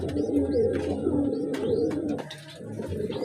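A short-bodied domestic pigeon coos close by in a few repeated throaty rolls, with faint bird chirps in the background.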